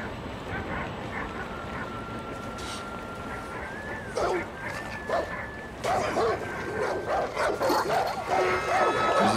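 Dogs barking and yipping in the Far Cry 5 game world, a few short barks and whimpers under steady in-game noise and background sound, with someone talking over them.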